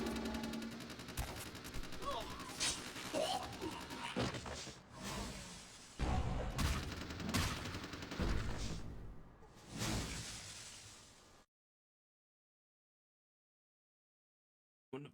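Bursts of rapid gunfire and explosions crackle in a busy game soundscape, irregular and loud, before falling abruptly silent.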